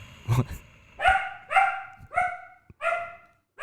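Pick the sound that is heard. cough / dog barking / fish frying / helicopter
dog barking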